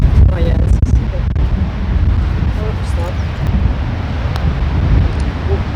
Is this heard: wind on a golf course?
yes